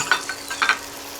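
An egg going into a hot skillet of sausage scramble, with soft sizzling and a few quick stirring scrapes, close and alone without talk.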